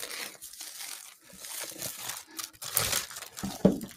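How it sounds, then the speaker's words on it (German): Protective plastic film peeled off Apple AirPods Max packaging, giving close, loud crinkling and tearing rustles that come in bursts over several seconds, with a sharper crackle near the end. "Folie ab."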